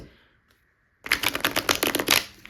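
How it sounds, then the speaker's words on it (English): Tarot cards being shuffled by hand, a quick burst of riffling, rapid flutter and snapping lasting over a second after a brief near-silence, close and crisp with no talk. "that is where I learned how to shuffle like this"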